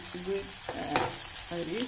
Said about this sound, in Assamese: পিঁয়াজ নহৰুখিনি অলপ ভাজা হৈ গৈছে।